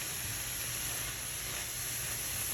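Minced garlic and bay leaves sauté in a hot pan with a steady, even sizzle, a soft continuous hiss held close and unbroken, with no talking.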